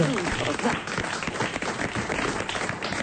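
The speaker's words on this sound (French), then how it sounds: "vous applaudissez" A studio audience applauds at the close of a French talk show, with steady, dense clapping throughout and a few voices mixed in.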